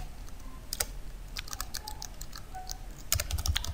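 Keys clack on a computer keyboard in short uneven bursts, a few taps, a pause, then a quicker cluster near the end, close and crisp with no talk.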